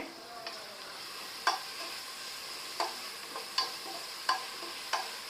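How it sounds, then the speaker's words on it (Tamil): Onions sautéing in a pan for Hyderabadi chicken dum biryani give a steady, fairly soft sizzle, broken by several sharp scrapes and taps of a stirring spoon spaced a second or so apart. "இது பொன்னிறமாக வர வரைக்கும் நல்லா வதக்கி எடுத்துடலாம்"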